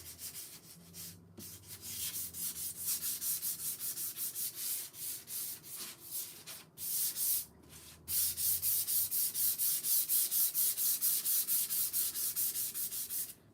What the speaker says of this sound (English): I actually kind of like it with some distressing on the edges.